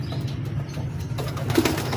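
A racing pigeon arrives at the loft after a 51 km training flight, with brief, close wing flaps over a quiet background.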